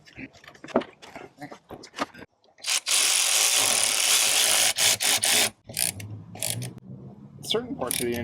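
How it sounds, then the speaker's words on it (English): Talk and clanking at first, then a loud, steady whirring burst of a power tool tightening a car battery terminal on a 2013 Honda Odyssey for about three seconds, followed by short ratcheting bursts and more handling noise. "it's frowned upon to use power tools on battery terminals"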